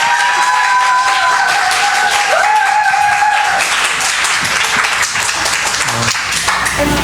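Loud, sustained applause from a church festival audience filling the room, dense and continuous, with a voice and some sustained tones heard over it.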